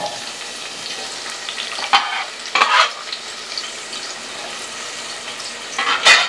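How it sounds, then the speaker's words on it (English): Onions and garlic frying in oil in a pot on the stove, a steady close sizzle with a few louder bursts as the pieces are stirred and shifted. "you want to add in the onions and the garlic"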